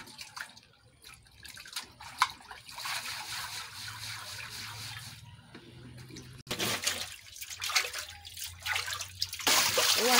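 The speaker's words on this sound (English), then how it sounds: "Put it inside the water. And they'll be washing it like this." Fufu being washed by hand in water gives soft splashes, trickles and drips, close and fairly quiet, with brief pauses between bursts of sloshing and no clear talk.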